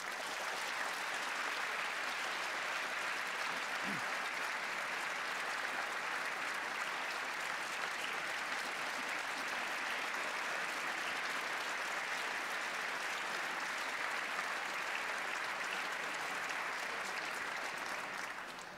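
A concert audience applauds a wind orchestra at a Christmas and New Year concert, with steady, dense clapping that fills the hall evenly and continues without a break.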